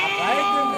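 A goat bleats loudly and close by at a weekly sheep and goat market in Kadiri, a single sustained wavering cry.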